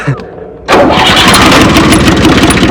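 A tractor's diesel engine, suspected of running on dirty fuel, catches abruptly after a short pause and settles at once into a loud, close, rapid chugging rhythm.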